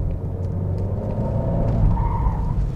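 A car engine rumbles as the tail slides out on a race track, tires skidding and sliding, with a brief rising squeal near the end.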